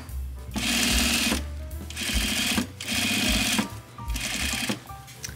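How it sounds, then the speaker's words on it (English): A sewing machine stitches a shirt straight up a seam in four loud, close bursts of rapid mechanical whirring with brief pauses between them. "I'm just sewing straight up."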